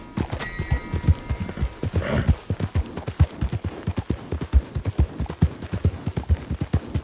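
Hooves of a Missouri Fox Trotter horse clip-clop in a steady, close rhythm through a video game scene near Flatneck Station trading post, with a brief whoosh partway through.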